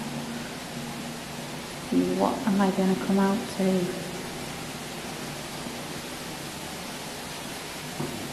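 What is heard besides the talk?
running water heard in a castle tunnel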